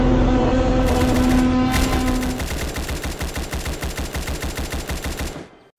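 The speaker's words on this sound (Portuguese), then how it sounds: "Nossa, o cara tá atirando!" Rapid automatic gunfire from the Roblox game Chaos Theory, a dense loud burst that settles into a steady fast rhythm of shots for several seconds before cutting off.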